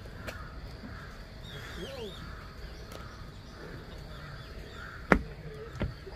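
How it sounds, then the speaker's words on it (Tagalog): A crow caws several times at a steady pace, faint and distant, over low outdoor background noise and a couple of sharp knocks, on a walk toward Busan Tower. "Kaya naman ang uwak na yun."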